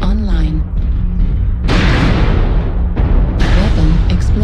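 Airstrike weapon explosions in a mech combat game, two loud sudden noisy blasts about two seconds apart under a voice speaking in the game.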